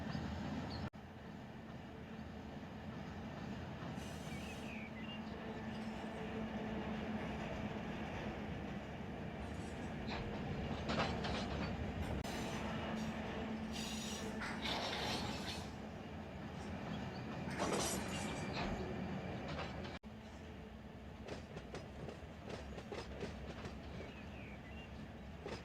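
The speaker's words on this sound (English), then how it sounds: "these two SD40s are pulling this train just fine, so, I mean, pushing this train just fine" A pair of BNSF SD40 diesel locomotives push a train through the West Colton hump yard in Run8 Train Simulator, giving a steady low engine rumble with rail clatter and occasional bursts of metallic squeal, mostly moderate and continuous.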